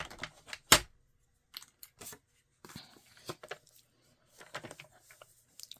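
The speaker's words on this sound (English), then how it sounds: "Probably get a better cut on the trimmer." A paper trimmer slicing paper at a crafting desk, giving a sharp close snap followed by a few softer sliding and clicking strokes with quiet gaps between them.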